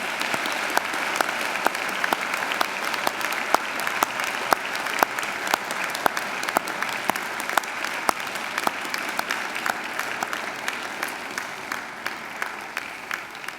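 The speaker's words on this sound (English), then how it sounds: "give them a good round of applause" Sustained, steady applause from university graduates turned toward their families and friends at a graduation ceremony, even crisp clapping throughout without a break.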